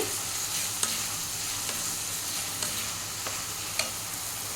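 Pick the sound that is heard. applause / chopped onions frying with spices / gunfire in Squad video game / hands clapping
chopped onions frying with spices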